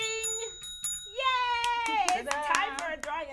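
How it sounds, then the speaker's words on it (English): A bell rings a few clear, sustained tones at the start, followed by lively voices talking and exclaiming close by. "Got to ring the bell."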